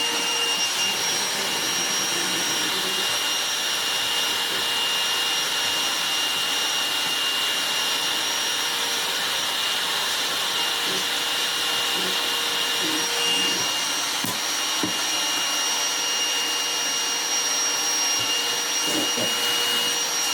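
Goblin Solo vacuum cleaner, restored with a modified motor, runs steadily on carpet with a loud, constant whooshing roar and a thin high whine from an air leak at the head, without speech.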